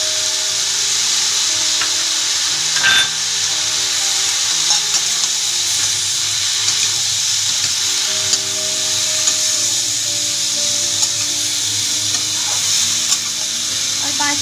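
Tomatoes frying in a pan for beans aloo masala, a steady bright sizzle with occasional light stirring scrapes, near and unbroken, no voices.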